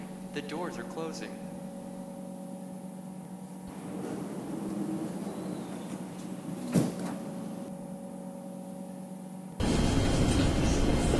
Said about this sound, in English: Warning, the doors are closing.